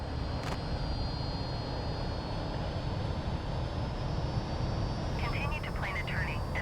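Steady roar of a Fouga CM-170 Magister jet engine in Microsoft Flight Simulator, constant and loud throughout, with a faint high whine and brief chirps near the end.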